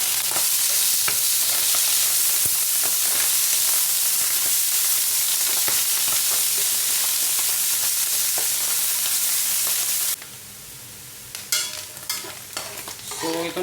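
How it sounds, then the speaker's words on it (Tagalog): Sliced mushrooms sautéing in a hot pan for a cauliflower stir fry, a loud steady sizzle with stirring scrapes throughout, dropping quieter near the end before brief clatters return. "i-half cook muna natin ang sliced mushroom"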